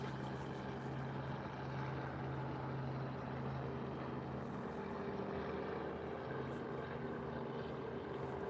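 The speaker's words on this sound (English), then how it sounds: "You can hear and see a helicopter taking off" A helicopter starting up on the Toronto waterfront at Queens Quay West, a steady engine and rotor drone with low harmonic hum, moderately distant and continuous beneath outdoor city ambience.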